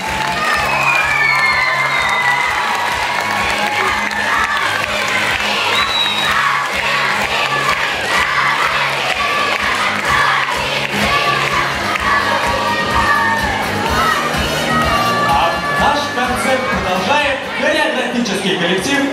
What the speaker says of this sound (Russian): Бурные аплодисменты нашим призерам!